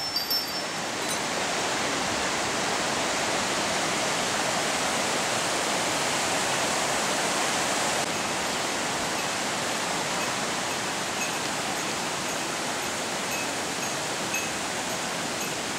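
Water rushes in a steady, broad roar, a continuous close-up flow with no pauses, like a fast mountain stream tumbling over rocks, on Mount Mitsumine in Kanagawa, Japan.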